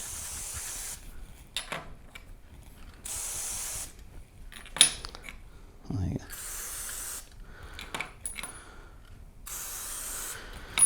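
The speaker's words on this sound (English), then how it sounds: "I am going to spray the outside of the ones that have the black line" Hornady One Shot aerosol sprayed onto ammunition cases in repeated hissing bursts of about a second each, close and clear, separated by pauses with small mechanical clicks and handling noises.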